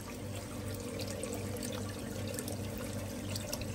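Water circulating continuously through a hydroponic vegetable garden rack, a steady, even rushing and trickling flow close by, with no talk over it.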